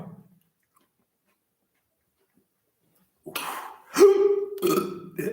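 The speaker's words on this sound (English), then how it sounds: "hiccup started." Abrupt hiccup-like gulps and vocal bursts from a person eating spicy Colombian treats, several short jerky sounds in quick succession after a stretch of near silence, close and loud.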